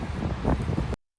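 Wind blowing at the beach by the ocean, a steady rough rush of gusts buffeting the microphone, loud and close with no talk, cutting off abruptly.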